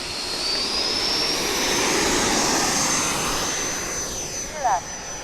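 A model aircraft taking off at a flying field, its engine whining steadily and building to a loud pass, then fading, with a voice speaking briefly near the end.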